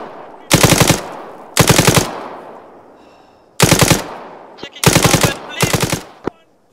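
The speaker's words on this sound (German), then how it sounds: "Wäre Beschuss hier auf unserer Seite, aber kein Ziel" Five sharp bursts of automatic machine gun fire from the video game Arma 3, each loud and rapid, separated by short pauses, with no talking.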